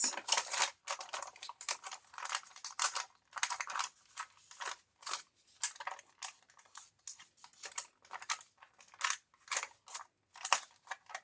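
Scissors cut out a paper sewing pattern in quick, irregular bursts of crisp snipping and crunching paper, heard close, with short pauses between runs of cuts and no talking.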